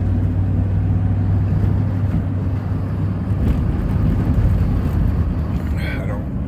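A 1993 Chevy 4x4 pickup truck on an icy road drives along with a steady, loud engine drone and road rumble, the pitch changing as it shifts into high gear, mixed with wind noise and occasional voice.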